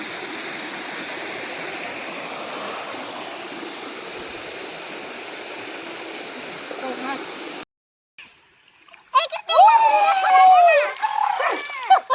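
Water flows and splashes in a steady, full rush for several seconds, then cuts off. Excited voices follow.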